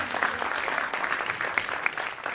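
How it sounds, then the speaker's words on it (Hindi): An audience at an award ceremony claps steadily, a dense, even patter of many hands filling the room without speech. "अगर अच्छा लगा तो तालियां दीजिएगा,"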